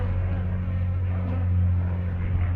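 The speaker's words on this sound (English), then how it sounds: "No, Lancaster bomber, isn't it? Low and slow." A Lancaster bomber drones low overhead, a steady deep engine hum that stays continuous and fairly loud throughout, with no talking.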